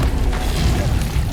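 Confringo fire spell in Hogwarts Legacy, a dense booming burst that stays loud and rumbling through a short moment.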